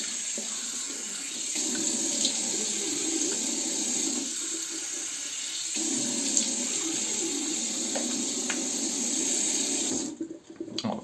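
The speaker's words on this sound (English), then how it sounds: "So I'll wash my face quickly" Steady water running from a sink tap while someone washes their face, a continuous close hiss with faint splashes, cutting off near the end.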